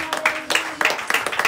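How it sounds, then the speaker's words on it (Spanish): Congregation clapping hands during a church worship service, a few quick irregular bursts of claps close by with voices mixed in. "regálele palmas al Señor"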